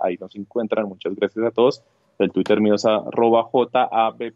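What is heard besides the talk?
No everyday noise stands out behind the speech.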